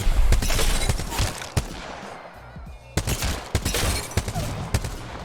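Rapid bursts of CAR SMG fire in Apex Legends at a firing range, loud close automatic volleys separated by a short pause, then more quick bursts.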